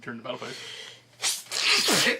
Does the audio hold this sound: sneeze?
yes